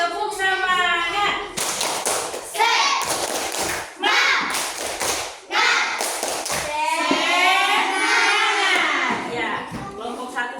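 A group claps in quick rhythmic bursts of an Indonesian classroom 'tepuk semangat' clap chant, mixed with children's voices talking and chanting along in a lively room.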